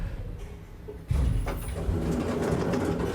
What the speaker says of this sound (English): Oh my gosh, sounds like this elevator's about to crash.